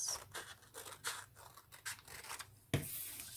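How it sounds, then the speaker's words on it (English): Scissors snipping through sticky notes for art journaling cards, a quick run of close, crisp cuts and paper rustle, then a louder final snip. "So this is some sticky notes. So I'm going to try cutting that up."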